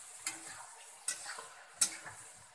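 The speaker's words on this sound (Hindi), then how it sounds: "देखिए इसको अच्छी तरह से फिर से चला देना है।" Chicken cooking in a covered pan is stirred, three distinct metallic scrapes of a spoon against the pan over a soft, continuous sizzle.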